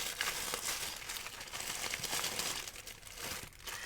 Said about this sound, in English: let me wait until it stops crinkling